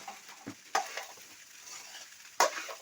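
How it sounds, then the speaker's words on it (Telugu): Food being stirred in a pan at home, with a faint sizzle under a few sharp scraping strokes of the spoon, near and moderately loud with no talk. "ఇట్లా కలుపుతున్నాడు మా ఆయన, అక్కడ కలుపుతున్నట్టే కలుపుతున్నాడు"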